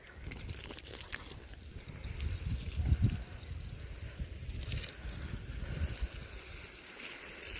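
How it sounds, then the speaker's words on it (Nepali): Water poured over a small vegetable garden patch of weeds and young tomato plants, a steady soft outdoor splashing and trickling wash that swells briefly midway, fairly faint and with no voices. "सर्र पानी हाल्ने एकचोटि।"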